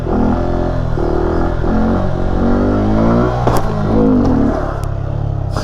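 A Honda Grom motorcycle with stock exhaust revving loudly at a night stunt ride, the engine rising and falling in repeated sharp throttle blips close by, with a brief clatter partway through.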